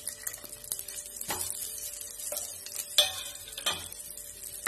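Tomatoes tipped into a pan of thinly sliced garlic sautéing for pesto pasta, giving a steady close sizzle with stirring scrapes and a few louder bursts of spattering as they hit the hot oil.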